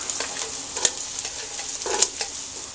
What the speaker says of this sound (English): Let's add in the onions, get them nice and golden brown.